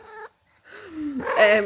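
A house cat lets out a short mew, then after a pause a longer rising and falling meow, loud and close.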